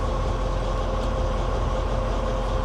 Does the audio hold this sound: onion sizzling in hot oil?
no